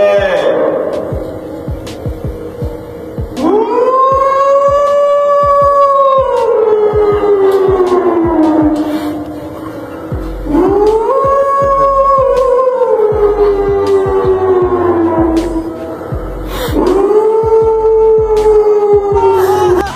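A voice imitates a wailing siren in long rising and falling howls during Ramadan, waking people, three cycles in a row, with faint clicks between.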